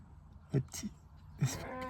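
Sheep bleating with two or three short, nasal calls a second or so apart, moderately close, over a faint background.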